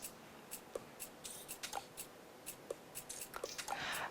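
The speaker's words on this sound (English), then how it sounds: "Cut the fifth string 5 times." Scissors snip through string in a quiet room, giving a series of short, sharp, faint clicks spaced irregularly about half a second apart, with nobody talking.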